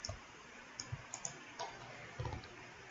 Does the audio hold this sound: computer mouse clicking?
yes